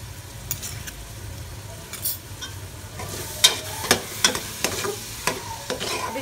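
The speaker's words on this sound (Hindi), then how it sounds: "अब इसको हम भून के इसमें आलू डालेंगे" Cumin seeds and crushed dried coriander frying in a pan for aloo methi, a steady close sizzle broken by a run of sharp scraping stirs and taps toward the end.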